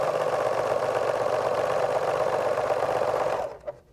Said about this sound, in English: And we'll just stitch a straight stitch on here.